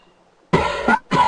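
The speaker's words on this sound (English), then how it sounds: "You're loud when you cough." Two loud, harsh coughs close to the mic, each a sharp burst after a quiet moment.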